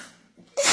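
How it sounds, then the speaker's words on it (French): A single sneeze: a brief inhale building up, then a sudden loud burst at the end. "Je vais éternuer."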